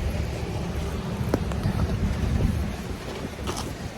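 Cold morning wind at about five degrees buffets the microphone outdoors while walking to school, a steady low rumbling roar with gusty swells and no voices.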